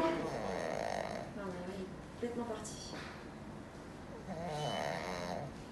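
A man snores during a hair transplant operation, giving rough, rhythmic breaths repeated several times at low volume. Speech-like sounds mix in.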